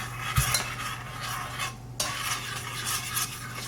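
A spoon stirs chunks of chocolate melting in a pot over low heat for brownies, giving soft scraping and clinking against the pot, steady and close, with no talking.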